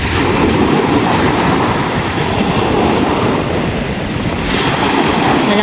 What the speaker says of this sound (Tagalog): Ayan po, malakas yung alon.